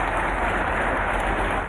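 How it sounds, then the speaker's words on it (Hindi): Crowds across Britain clapping for Captain Tom, a dense, even wash of applause from many hands, steady and fairly loud throughout with no voices standing out. "ब्रिटेन के अलग अलग इलाके तालियों की आवाज से गूंज उठे।"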